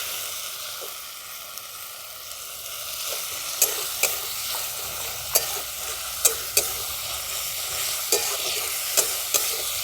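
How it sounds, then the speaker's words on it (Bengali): Chopped tomatoes fry with ginger and garlic in a pan, giving a steady bright sizzle punctuated by regular sharp taps of a spoon stirring against the metal. "এরপরে দিয়ে দিচ্ছি আমি কেটে রাখা টমেটো।"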